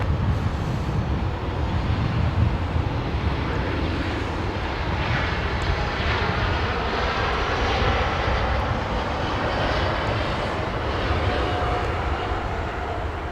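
A Lufthansa jet airliner taxiing at Los Angeles International Airport gives off a steady, broad engine roar that holds at an even level throughout, with no voices.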